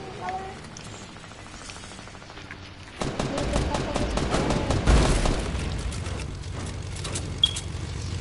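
Gunfire in a shooter video game, a quiet stretch followed by a loud burst of rapid shots and crackling impacts that keeps going to the end, with players talking over it.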